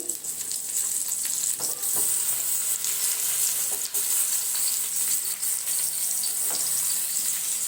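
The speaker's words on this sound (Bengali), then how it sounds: "দিয়ে হালকা করে ভেজে নেব" Eggplant pieces fry in hot oil with a constant bright sizzle, broken by a few sharp clicks and scrapes of stirring, close and steady.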